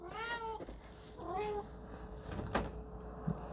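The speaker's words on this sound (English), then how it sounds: "I had to pause to let my cat out of my room" A house cat meows at a bedroom door, two or three clear rising cries close by, with soft background noise and faint knocks afterward.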